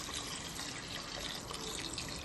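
Water steadily poured into a cooking pot while preparing a Tamil mochai kottai semiya dish, a continuous, fairly quiet splashing stream with no talking.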